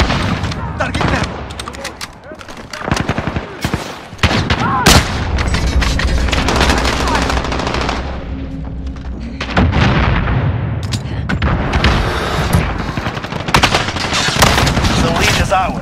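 Dense gunfire fills a military video game battle: continuous rattling automatic bursts, sharp single shots and heavy booms, loud and close throughout, with voices talking in among the shooting.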